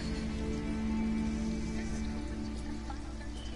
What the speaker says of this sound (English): Need to sit in the rain.